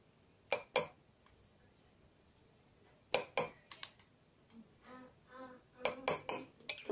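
A spoon stirs a ginger mixture, giving sharp metallic clinks in clusters of two and three against quiet pauses, close and crisp, with faint soft murmurs between.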